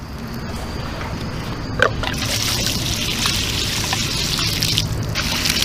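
Clean rinse water trickling and draining from a car's cooling system during a coolant flush, a steady soft dribble at close range with one brief clink midway, continuing without talk.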